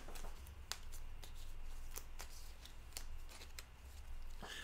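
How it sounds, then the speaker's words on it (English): Board game cards shuffled at a tabletop game night, giving soft riffling and sharp snapping bursts at irregular intervals over a low background hum, fairly close and quiet. "All right, let's shuffle these things."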